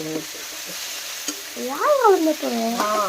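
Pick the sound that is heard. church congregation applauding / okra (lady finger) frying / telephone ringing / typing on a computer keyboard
okra (lady finger) frying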